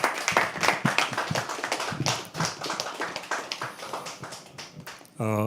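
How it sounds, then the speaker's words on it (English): Scattered clapping from a small audience at a live poetry open mic, uneven individual claps with voices mixed in, ending with a brief tonal sound. "Can we please have a round of applause for her?"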